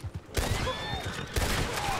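Gunfire in Red Dead Online, sharp loud shots that crack twice close by over a low rumbling ambience, with a voice talking faintly underneath.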